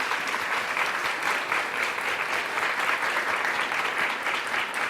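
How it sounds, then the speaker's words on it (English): An audience at a town hall on child welfare claps for child care providers, a dense, steady wash of applause from many hands that holds at an even level throughout. "let's just take a minute and applaud all the child care providers in this room and elsewhere who are"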